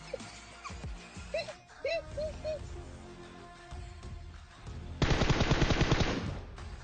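Gunfire in the PUBG Mobile video game, with scattered shots and electronic tones early on, then a loud sustained burst of rapid automatic fire over the last two seconds.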